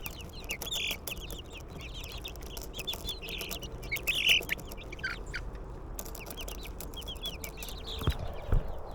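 A rooster with a red comb and a flock of chickens cluck and chatter steadily in a farmyard run, with repeated short calls at moderate distance and no talk.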